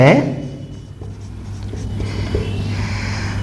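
Chalk or marker writing equations on a board in a class-ten math lesson, quiet scratchy strokes at close range after a brief spoken word at the start, over a steady low electrical hum.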